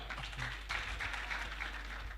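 A crowd at a lively comedy event claps for Rumaga, giving a faint, steady wash of applause that holds evenly throughout with no voices standing out.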